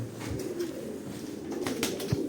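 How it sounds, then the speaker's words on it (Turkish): Pigeons coo softly and close by in a loft, a few low rolling calls over a steady background hum, with no talk. "Bunlar o arkadaşın kuşlarıdır."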